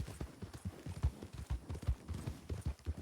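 Horse hooves clip-clop in a role-play video game, a fast and fairly quiet galloping rhythm of dull thuds with no speech.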